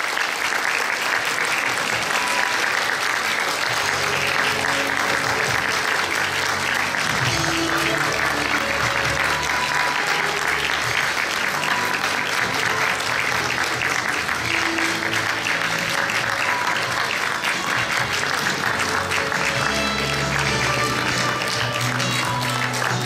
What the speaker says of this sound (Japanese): もう一度大きな拍手をお送りください。